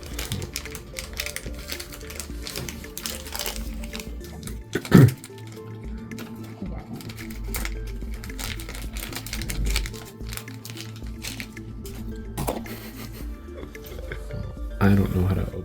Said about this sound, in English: I don't know how to open plastic bags.